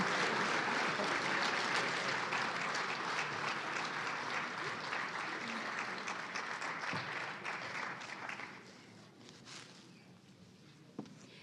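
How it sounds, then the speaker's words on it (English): Sustained applause from an audience after a keynote at an MLK celebration, a dense, even wash of clapping that thins out and fades to scattered claps and room noise near the end. "Let's give her another round of applause, please."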